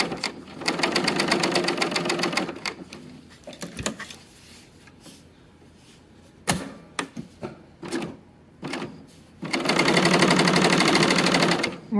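A sewing machine stitches a pocket into a New Look 6511 dress in two loud, rapid bursts at the start and end, separated by softer fabric handling and clicks.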